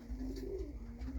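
Roller pigeons in a loft give a steady, low, wavering coo that swells and dips across about a second, fairly close, with no talking.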